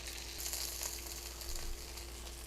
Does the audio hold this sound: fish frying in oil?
yes